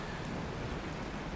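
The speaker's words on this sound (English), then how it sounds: "The rain! It's raining!" Steady rain falls in Honkai Star Rail, a dense even hiss of broadband noise with no distinct drops standing out, brief and fairly faint.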